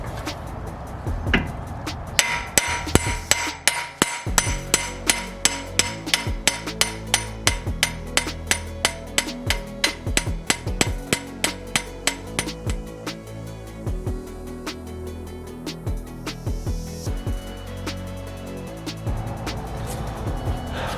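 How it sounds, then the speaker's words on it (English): Metal hammer blows on the driver side axle of a Mazdaspeed 3, a long run of sharp, evenly spaced ringing strikes up close, tapering off near the end. "I'm gonna go ahead and keep hammering this thing"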